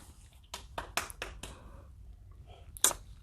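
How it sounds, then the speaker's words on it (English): A few separate hand claps sound close by in a quiet room, four spaced claps followed after a pause by one sharper final clap. "Let's clap."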